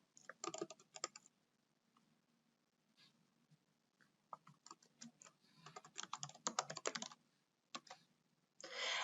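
Bursts of typing on a computer keyboard as a username and password are entered, quick clustered keystrokes separated by short pauses, close and fairly quiet in a still room.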